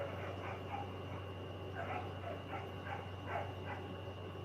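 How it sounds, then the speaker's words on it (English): Dogs bark outside, heard faintly and at a distance in a series of short muffled barks over a steady low electrical hum in an indoor room. "Can you guys hear the dogs barking outside?"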